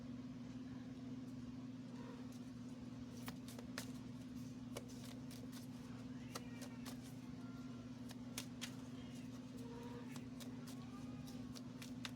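Quiet, papery riffling of cards being shuffled in short bursts over a steady low electrical hum.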